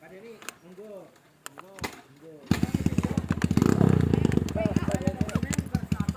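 Kawasaki KLX motorcycle with a freshly replaced clutch plate starts up and idles with a rapid, loud, close putter that rises and settles; people talk over it before and during the running.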